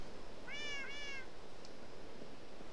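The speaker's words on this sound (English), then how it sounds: "And I found cats." A cat in a block-building video game gives two short meows in quick succession, clear above a constant hiss of background noise.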